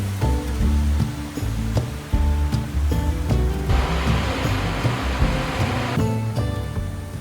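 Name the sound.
roar of a waterfall in Lauterbrunnen valley, Switzerland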